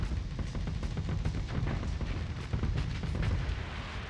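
Missile and weapons fire in the space combat game Starsector: a dense, continuous barrage of booms and popping shots with a rumbling low end, loud and steady throughout, with no talking.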